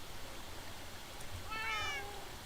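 Minecraft cats meowing in a short burst of two or three rising and falling calls near the end, over a steady background hiss of game ambience.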